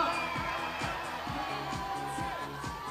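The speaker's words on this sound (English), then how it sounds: "The crowd are loving it" Arena crowd at the 2012 IFSC Lead Climbing World Cup finals in Chamonix cheers and roars for a climber, a steady dense wall of voices with whoops and shouts layered over continuous music or loudspeaker sound throughout.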